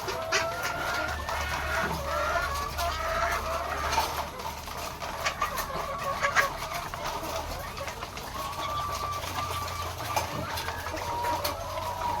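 Layer hens, White Leghorn and Rhode Island, cluck steadily in a coop, with several birds close by and overlapping calls over a constant low farmyard hum.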